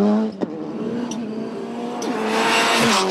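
Ford Fiesta, a short-wheelbase car, races hard through track corners, its engine droning loud and steady near the listener with shifting pitch and rising intensity as it slides through turns.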